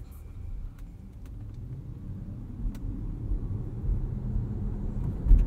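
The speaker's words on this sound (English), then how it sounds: "That's full throttle right there." A 2021 Volvo S90 Recharge T8 Inscription plug-in hybrid runs at full throttle, giving a steady low engine and road rumble that swells slightly, heard from inside the car with no talk.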